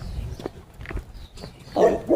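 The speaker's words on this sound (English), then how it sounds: "She's barking at the other dog walking by me." A dog barks at another dog walking past, a few muffled yips, then one louder bark near the end, close by.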